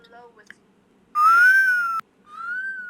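A low, smooth whistle rises slightly and holds for nearly a second, then stops abruptly. After a short pause a softer second whistle follows, all close and clear against faint background noise.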